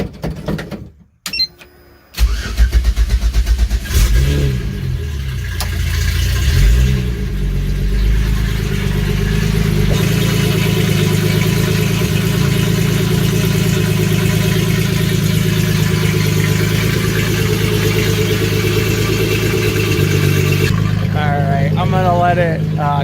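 A twin-scroll turbocharged VW Bug engine fires up after a brief sputter and settles into a steady, loud idle that runs on continuously, with a person talking briefly near the end.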